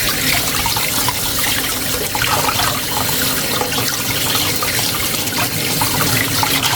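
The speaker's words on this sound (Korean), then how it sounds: "물에 3번 정도만 씻으면 깨끗한데" Semi-dried pollock (kodari) gets rinsed in a basin of water in a home kitchen, producing a loud, continuous splashing and running-water wash that stays close and steady throughout, with no talking.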